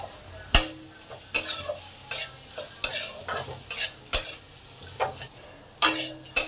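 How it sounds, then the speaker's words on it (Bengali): Spice paste with chilli powder being stirred and sautéed in a pan: a series of sharp, irregular scraping strokes of the spoon over a low steady sizzle, close and fairly loud, with no talking. "এই মশলাটাকে ভালো করে কষে নেব মশলার কাঁচা গন্ধ যতক্ষণ না যাচ্ছে ততক্ষণই কষতে হবে"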